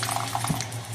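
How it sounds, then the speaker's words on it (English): Tap water runs steadily into a container while cornstarch water is being mixed, a brief, continuous splashing flow heard close up. "So just turn up the tap water a little bit, pour it in there,"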